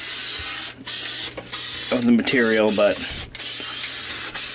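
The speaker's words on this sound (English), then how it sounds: "Got some spraying going on here." Spray adhesive from an aerosol can, applied in a liberal coat to carpet inside a Betson claw machine: several close, loud hissing bursts separated by short pauses, with someone briefly talking between sprays.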